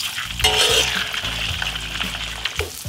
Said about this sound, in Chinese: 肥膘肉下锅，下锅的时候从边边上下